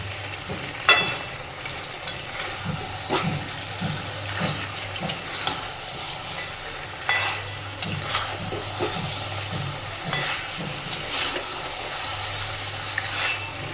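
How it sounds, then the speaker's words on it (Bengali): Fried bhetki fish bones stirred into a pan for a Bengali chorchori, with repeated scraping and clattering strokes of a spatula over a soft sizzle, steady and close, with no talk. "ভেজে রাখা ভেটকি মাছের কাঁটাগুলো এর মধ্যে দিয়ে দিচ্ছি। খুব সুন্দরভাবে সবকিছুকে এবার একটু মিশিয়ে দেবো।"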